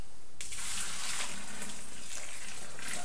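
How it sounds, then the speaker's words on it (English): Hot water poured into a home beer kit: a steady rushing splash that starts abruptly and continues as a dense, loud gush to the end, alone without talk. "add about 6 pints of hot water to it"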